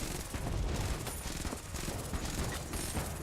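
Gunfire in Enter the Gungeon rattles continuously as dense, rapid shots, loud and unbroken across the whole stretch with no speech.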